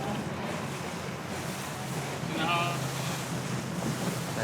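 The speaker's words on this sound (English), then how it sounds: "Plenty of spectator boats out, following all the teams around." Spectator boats on open water near Newport follow sailing teams during an in-port race: a continuous wash of wind, waves and distant engine rumble, fairly loud and unbroken throughout.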